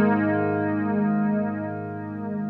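A sustained, harmonically rich tone passes through a flanger whose feedback is being raised, giving a steady, swirling comb-filtered sweep that grows more intense and stays alone, with no voices.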